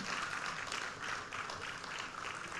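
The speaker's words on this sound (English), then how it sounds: "please give a huge round of applause and welcome him" Brief burst of audience applause welcoming a guest at a formal event, steady and dense clapping throughout without a break.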